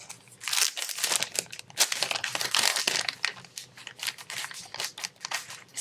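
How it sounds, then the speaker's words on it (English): Scissors snip through cream-colored cardstock, cutting out a paper dog shape for a handmade fall card, giving a steady close run of crisp crinkly cuts and paper rustling with no talk. "So I'm going to cut out my dog in this cream colored"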